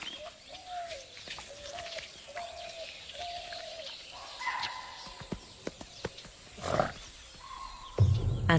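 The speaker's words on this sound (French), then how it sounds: "Soudain, un cri d'alerte les perturbe." Animal alarm call ringing out in a jungle where a Bengal tiger roams, a series of repeated tonal cries at a steady rhythm, then sharper calls and rustling movement, with a brief thud at the end.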